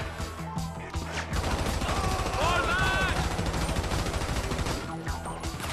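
SMG fire in Grand Theft Auto V, long rapid bursts of gunshots rattling densely for several seconds, loud and close after a brief quieter start, with a faint voice underneath.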